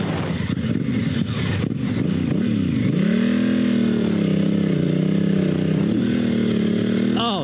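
A dual sport motorcycle on TKC80 tires rides through deep sand, its engine revving loud and close, pitch rising and wavering as it pulls away and shifts, with a steady droning roar throughout.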